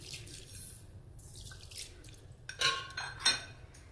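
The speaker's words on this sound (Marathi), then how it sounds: "आता हे स्वच्छ पाण्याने 2-3 वेळा धुवून घेते" Soaked uttapam batter ingredients are rinsed in clean water in a metal vessel, with a soft background of trickling water and then a few close, bright clinks and splashes near the end.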